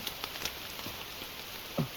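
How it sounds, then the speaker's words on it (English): Steady rain makes a soft, even hiss with a few scattered drips and taps, and a couple of louder drops near the end. No one speaks. "it's raining again"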